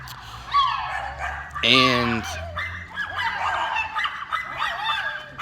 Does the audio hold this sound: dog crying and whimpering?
yes